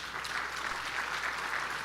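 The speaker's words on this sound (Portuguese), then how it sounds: "Eu quero uma salva de palmas ao Senhor." A congregation applauding in church during a sermon, a dense, even wash of clapping heard from some distance, steady and fairly soft for a couple of seconds.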